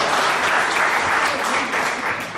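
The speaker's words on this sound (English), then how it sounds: "Give yourselves a round of applause." Neighborhood alliance meeting attendees clap for themselves after a unanimous vote, a full, even round of applause of many hands sustained at close range.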